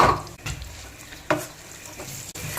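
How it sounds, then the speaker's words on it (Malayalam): Garlic, ginger and green chilli frying in hot oil for a tuna fish pickle, a steady close sizzle with a few stirring scrapes and sharper bursts as pieces hit the pan. "നമ്മൾ എണ്ണ ചൂടായിട്ട് നമുക്ക് ആദ്യം വെളുത്തുള്ളി പിന്നെ ഇഞ്ചി പച്ചമുളക്"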